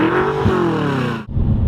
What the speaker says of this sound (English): You hear a little bit of turbocharger, and it does sound good